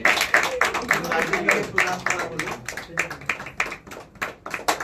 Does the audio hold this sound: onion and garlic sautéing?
no